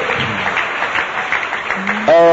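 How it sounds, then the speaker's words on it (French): A church congregation claps and cheers at a French-language worship service, with steady applause filling the brief moment and a preacher's voice rising over it near the end. "Acclame Jésus très fort."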